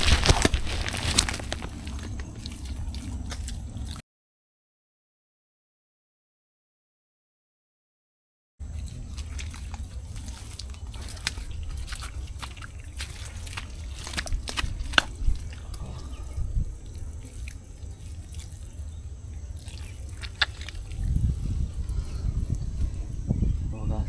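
Freshly caught mussels from a mangrove catch being washed in water, with continuous splashing, sloshing and dripping close by, broken by a few seconds of silence, while people talk intermittently.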